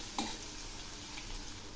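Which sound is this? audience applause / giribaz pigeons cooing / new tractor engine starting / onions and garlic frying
onions and garlic frying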